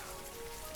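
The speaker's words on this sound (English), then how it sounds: "Of course it'd be raining." Steady rain falling in Skyrim, a dense even hiss of drops on surfaces with a faint tonal hum running through it, brief and unbroken with no voices.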